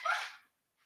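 A pet dog gives one short, fairly faint bark, heard alone and followed by silence.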